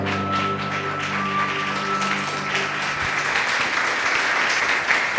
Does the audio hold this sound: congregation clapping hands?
yes